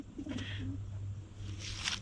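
Homing pigeons coo softly in a coop, a low throaty burbling call heard up close over a steady hum, with some rustling and a brief higher noise near the end.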